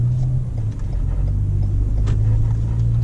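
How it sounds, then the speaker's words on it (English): Low, steady drone of a 2019 Lexus NX300 F-Sport's turbocharged four-cylinder engine while driving, a sustained rumble with a slight dip near the start, heard close and alone without talk. "Beware of my turbocharged 4-cylinder."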